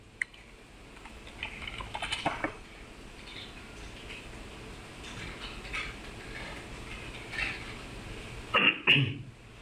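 Typing on a computer keyboard while building a web page template in PowerPoint: scattered soft key clicks in short bursts, with a few louder taps near the end, heard close and alone.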